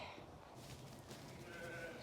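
Sheep bleating in a barn, a few overlapping calls against steady background noise, moderately close.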